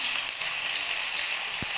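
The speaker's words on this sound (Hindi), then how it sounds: "जी तो चिकन जो है वो फ्राई हो रहा है।" Chicken deep frying in hot oil over a low flame, a steady close crackling sizzle that fills the whole short stretch without any talk.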